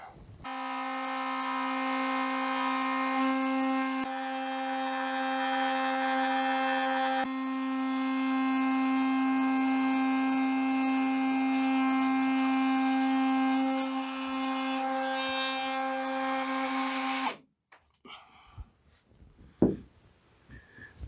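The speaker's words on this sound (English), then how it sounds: "That fiberglass is tearing a little bit. It doesn't like cutting it, but I've also got it set pretty high." A rotary tool bit runs at high speed, cutting fiberglass and plexiglass on a small wooden boat, as a sustained whining drone that holds for about seventeen seconds, then stops and leaves scattered faint knocks.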